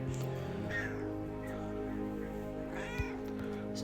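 A pet kitty meows a few times near the microphone over a constant hum of background music during a Magic Arena draft session.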